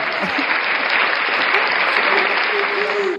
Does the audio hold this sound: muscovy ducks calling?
no